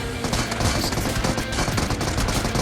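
Rapid automatic gunfire in the battle royale game BGMI crackles densely and loudly, shots overlapping in quick bursts with no pause throughout.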